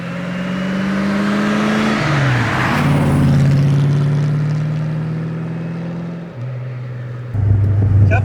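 A fully restored classic BMW 507 roadster cruises through rural Upper Bavarian countryside on a cold day, its engine droning loud and close, pitch climbing through the gears with audible shifts and a surge of acceleration near the end.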